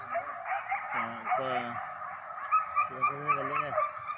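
A dog giving a few short yipping barks in two quick clusters, fairly close, with background chatter.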